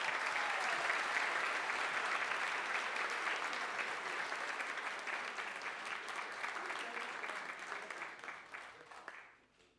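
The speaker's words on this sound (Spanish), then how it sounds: "Un fuerte aplauso." Sustained applause from an audience at a cabinet swearing-in ceremony at the presidential residence, loud and steady for most of its length before fading out near the end.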